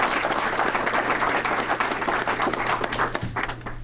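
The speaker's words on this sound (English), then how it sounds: "I want to give everybody a round of applause for our support at the high school and the academy." A Rotary meeting audience applauds steadily and fairly loudly with dense clapping throughout, tapering slightly near the end, with no speech over it.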